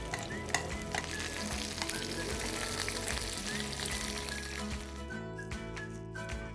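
Mutton sears in a hot pan to build a brown crust, a dense, continuous sizzle and crackle that stays loud and even throughout, with no voices.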